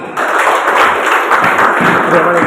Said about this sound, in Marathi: सगळ्यांनी टाळ्या वाजवा